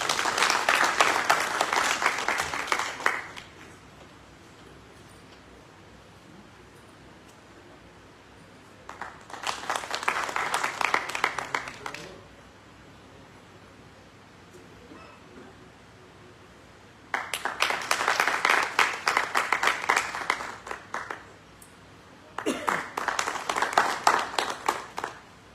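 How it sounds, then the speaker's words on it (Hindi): Audience applause at a seminar of thoughtful citizens in Gwalior, coming in four separate bursts of clapping, each lasting a few seconds, with quieter gaps of room noise between them. "एक बार जोरदार तालियां।"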